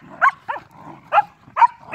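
A dog barks in short, loud, close yelps, four sharp barks spaced unevenly across two seconds, with a horse nearby and a few softer sounds in between.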